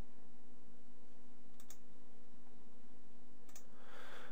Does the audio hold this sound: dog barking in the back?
no